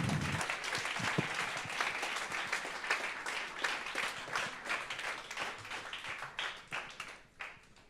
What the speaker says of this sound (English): you continue clapping until they come, even if it's slow